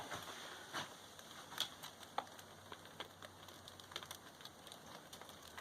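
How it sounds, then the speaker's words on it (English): Faint, steady thunderstorm rain patters on a surface at a kiva, with scattered light drips and ticks standing out against a soft hiss. "Rain coming in there."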